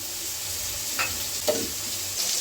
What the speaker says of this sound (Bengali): বেগুন দেখো ভাজা হয়ে গেছে